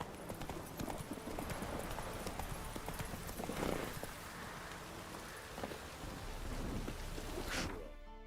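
In The Witcher video game, a horse gallops through rain and thunder, its rapid hoofbeats pounding steadily over the hiss of heavy rainfall, with low rumbles rolling beneath.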